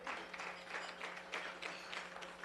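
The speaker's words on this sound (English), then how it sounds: "Thank you for that smattering of applause" A faint, thin smattering of applause from a small audience at a Rotary club meeting, steady sparse clapping heard from a distance.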